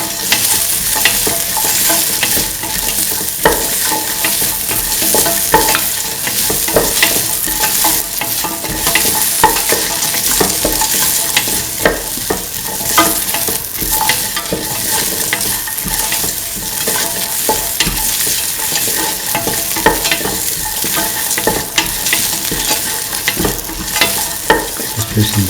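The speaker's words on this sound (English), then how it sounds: "Keep on sauteing." Ingredients for a mint cottage cheese coconut milk stew sautéing in a pan, a loud continuous sizzle with constant stirring scrapes throughout, no voices.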